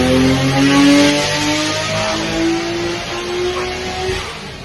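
A Nissan R32 GTR Skyline with an RB28 engine revs on a dyno, a loud, steady mechanical roar with rising and falling harmonic tones that holds throughout, close and alone.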